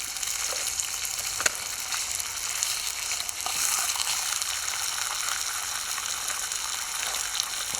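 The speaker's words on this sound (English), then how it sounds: "Let's see what sort of noise the bacon makes when it goes in there" Bacon sizzling and spitting in a hot pan over an outdoor chimenea after snow, a steady bright crackle with a sharp pop near the start.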